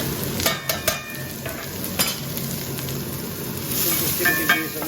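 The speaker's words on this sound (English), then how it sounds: "I'm ready to go in with my onions." Onions dropped into smoking hot oil over medium heat for keema peas, a close, steady sizzle and hiss with scraping stirs and clacks from a utensil against the pan, and brief talk over it.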